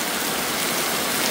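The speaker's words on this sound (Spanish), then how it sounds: "está lloviendo a cantaradas de agua" Heavy rain pours down in a dense, continuous hiss at a house during a downpour, loud and steady throughout with no voices.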